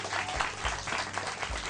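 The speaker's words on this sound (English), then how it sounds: "give them a round of applause" An audience gives a round of applause at a live sales presentation, dense even clapping filling the short stretch at moderate loudness without speech.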